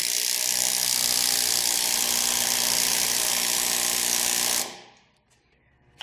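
A power tool tightens a tie rod end puller on a Toyota steering knuckle, running as a loud continuous rattling whir for several seconds before winding down abruptly into near silence.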